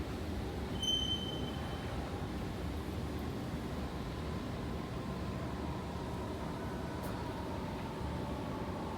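An underground metro train in Doha runs with a steady rumbling drone and a brief high wheel squeal early on, heard at moderate level without talk.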